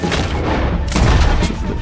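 Gunfire in the video game Red Dead Redemption II: loud, booming shots fired close by, with a heavy burst near the start, another about a second later and a further crack just after.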